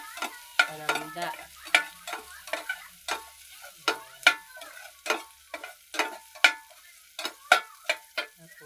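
Aromatics are sautéed in a pan for arroz caldo. A utensil scrapes and stirs in a steady run of sharp clicking strokes over a faint sizzle, close and fairly quiet, with no voices.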